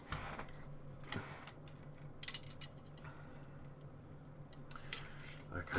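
A few quick snips as a piece of black insulating tape is cut during a Routemaster model bus build, close and brief against a steady room hum.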